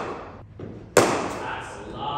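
Cricket bat striking a ball at a practice session, one sharp close crack partway through, followed by a lingering outdoor wash of ambient noise.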